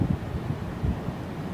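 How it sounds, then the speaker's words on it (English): Gusts of wind buffet the microphone in low rumbling bursts, steady and close, with no voices. "It's windy."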